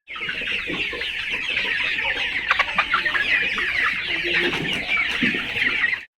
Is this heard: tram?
no